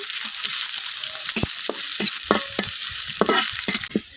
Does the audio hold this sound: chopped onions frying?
yes